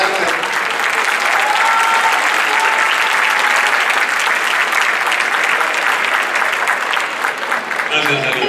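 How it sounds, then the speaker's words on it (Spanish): Strong, sustained applause from a large audience at a live performance, a thick, even roar of many hands clapping that holds steady for several seconds and thins slightly near the end. "Fuerte el aplauso para ellos"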